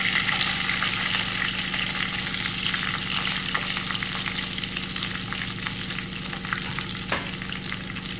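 Onions sizzle and crackle in sesame oil with mustard seeds for mutton keema gravy, a steady close frying hiss with faint stirring scrapes throughout and no voices.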